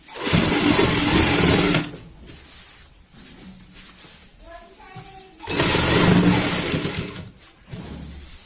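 A home sewing machine stitches the frill of a baby bed sheet in two loud, fast-whirring runs, one at the start and one near the end, with a quieter pause between them where someone speaks.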